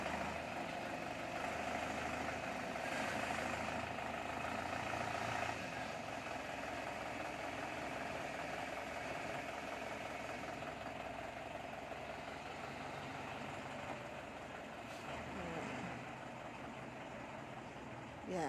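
An Isuzu Highlander reversing slowly into a garage off a narrow three-metre lane, its engine a steady, low, idling drone with a faint mechanical buzz that holds evenly throughout and dips only briefly near the end.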